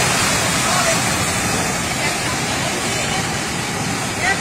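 Floodwater rushes loudly and steadily through flooded streets in Zapopan, a continuous broad roar close by with faint voices murmuring underneath.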